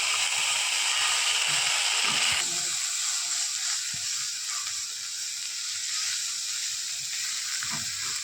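Cumin seeds, garlic paste, ginger paste and green chilies frying in hot oil, a steady close sizzle that hisses hard at first, then eases into a softer crackle with a few light utensil taps.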